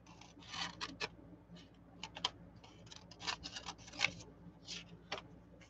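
Scissors snip through Tyvek or fabric while a lapbook is assembled, giving a quick series of faint, crisp cuts in an irregular rhythm, with no talking.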